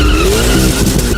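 A new King of the Hill Corvette's tires squeal and skid as they lose traction under heavy power, a loud continuous screech layered over engine roar with no talking.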